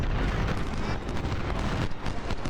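Artillery fire in Ultimate General, a Civil War strategy game at the Battle of Fredericksburg: a dense, continuous rumble of overlapping booms and blasts that stays loud for the whole stretch, with no talk.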